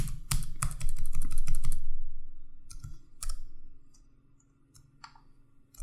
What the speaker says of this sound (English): Let me remove everything that I type.